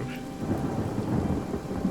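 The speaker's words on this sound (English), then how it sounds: "after the rain wears off here" Rain and rolling thunder in the video game Divinity: Original Sin make a dense, steady wash of falling rain with a low continuous rumble underneath, loud and unbroken.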